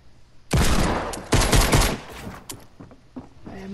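Rapid automatic fire from an AK assault rifle in a video game rattles out in two loud, close sustained bursts, then trails off into scattered, fainter shots.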